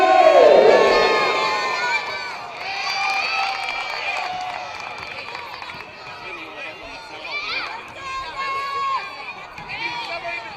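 Crowd at a school basketball game in an arena cheers and shouts loudly, with excited voices and yells rising and falling over a continuous crowd roar throughout.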